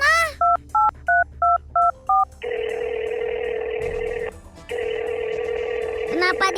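Six quick touch-tone beeps sound as a telephone number is dialed. A steady ringback tone follows, breaking once, and a voice comes in faintly near the end.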